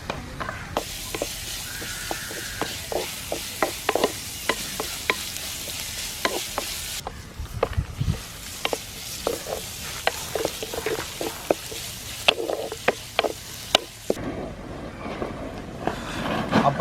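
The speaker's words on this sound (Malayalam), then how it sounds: "അപ്പോൾ നമ്മൾ ഇതിൻ്റെ അകത്തേക്ക്, അതായത് ചെറിയ ഉള്ളി, വെളുത്തുള്ളി, പച്ചമുളക്, ഇഞ്ചി, വേപ്പില, ഇത്രയും സാധനങ്ങളാണ് നമ്മൾ ഇതിൻ്റെ അകത്തേക്ക് ഇട്ടത്" Shallots, garlic, green chili, ginger and curry leaves fry in hot oil, a continuous close sizzle broken by sharp scraping clicks of stirring throughout, with no voices.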